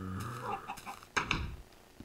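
Chicken clucking in the Minecraft video game, a few short clucks that are moderately loud and close, heard alone with no voices.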